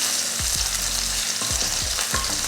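Mustard seeds, dried red chilli, curry leaves and crushed garlic sizzle and crackle in hot oil, with a steady loud fry broken by several scraping stirs of a spoon through the pan, close up and without any talk.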